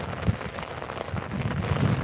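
Steady rain falls in Tirunelveli near a tractor track, a continuous close hiss with a few heavier low thumps from drops striking the ground.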